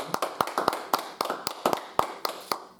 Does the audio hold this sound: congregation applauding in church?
yes